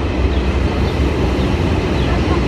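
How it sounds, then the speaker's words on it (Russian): An overground metro train in Berlin passing, a dense steady rumble and rolling rail noise, loud and close throughout, with no talk. "А еще метро наземное."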